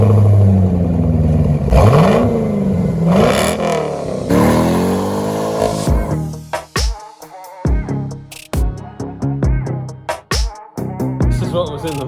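A 2005 Chevrolet Corvette C6 with a modified, partly gutted exhaust, its engine revving in rising and falling sweeps, then shorter sharp blips and pops, close and loud, with some background voices.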